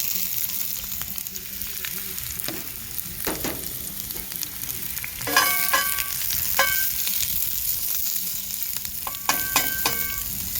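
Onions sautéing on a Big Green Egg grill for chicken smash burger sliders make a steady, close sizzle, with sharp spatula scrapes and clicks scattered throughout and no voices.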